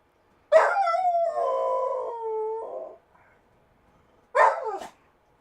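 Pet dog at home letting out a long, wavering howl that trails into a bark-like ending, then after a pause a second short, sharp howl-bark, close and loud in an otherwise quiet room.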